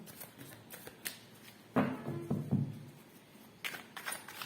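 Tarot cards are shuffled and drawn by hand in a quiet room, heard as soft riffling and flicking bursts with light taps in between, close and fairly faint.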